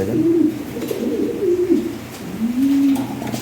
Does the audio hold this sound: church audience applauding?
no